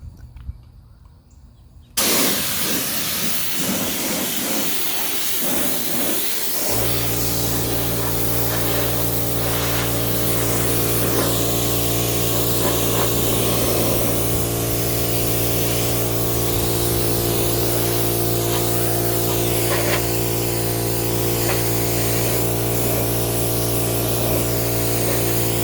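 An air compressor starts up and runs with a loud, steady drone as tire coating is sprayed onto a tire in a continuous close hiss, after a brief quiet start with a few small handling sounds.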